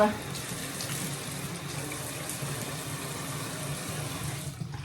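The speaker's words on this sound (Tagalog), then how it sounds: "Ngayon, maghugas na ako ng mukha." Tap water runs continuously into a sink during face washing, a steady close hiss and splash that holds at an even level throughout.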